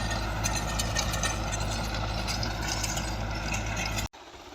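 A tractor engine runs steadily while pulling a 66-blade rotavator through dry farm soil, a loud continuous low drone with mechanical clatter, close by, cutting off abruptly near the end.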